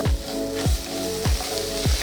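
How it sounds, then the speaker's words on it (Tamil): Steady frying sizzle in a pan, with four soft stirring scrapes at regular intervals and no talking. "நம்ம இதெல்லாம் லைட்டாக ரோஸ்ட் பண்ணிக்கலாம்"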